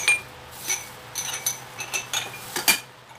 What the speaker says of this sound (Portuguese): Tem mais louça aqui.